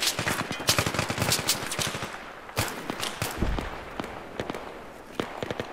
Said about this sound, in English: Now take defensive positions and fire at will.